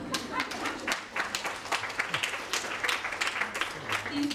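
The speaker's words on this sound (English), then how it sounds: "give a big round of applause to these people" Audience applause for a talk at a hacking conference, a moderate crowd clapping with uneven bursts and scattered individual claps, accompanied by some murmuring voices, steady across the few seconds.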